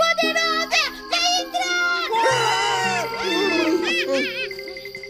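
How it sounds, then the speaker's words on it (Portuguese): A crowd of children's voices yells and shouts loudly on a children's puppet TV programme, a continuous excited racket with a spoken exclamation among it. "Que gritaria é essa?"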